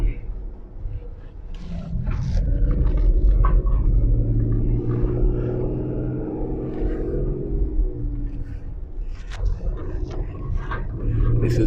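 A car labours up a steep, narrow, twisty country road in West Cork with grass down the middle, its engine a low, rumbling drone under continuous talking.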